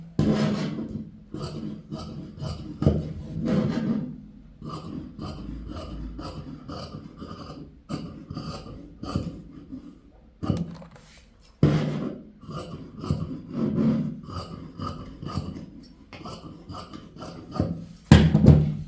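Scissors cut through blouse fabric with repeated crisp, rasping snips, close and fairly loud in uneven bursts, with no one speaking.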